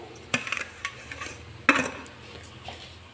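A spoon or spatula clatters against a pan while roasted sev is stirred into a smooth date mixture, giving a few sharp scraping knocks and soft rustling at close range, with no talk.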